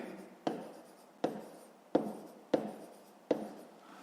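Pen strokes on paper sound in five distinct scratchy bursts, each sharp at the start and trailing off, close and clear against silence, as a sum in hryvnias is written down.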